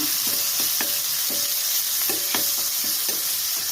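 Bajji chillies with spices, onion and tomato are stirred in a pan over steady frying sizzle, the spoon scraping in repeated soft strokes at close range with no voices.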